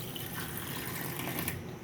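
Tamarind soaking water pours into a container in a home kitchen, a steady close wash of splashing liquid that runs for a couple of seconds with no talking.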